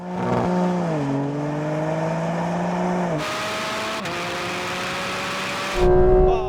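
A Porsche GT4 RS or BMW M2 CS engine in a race holds a high whine, then drops in pitch as gears shift several times, ending with a louder surge of revving.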